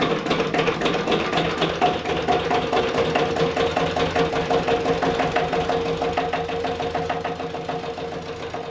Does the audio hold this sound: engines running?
yes